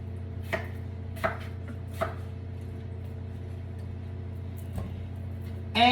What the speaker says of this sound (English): we're going to cut up the potatoes into cubes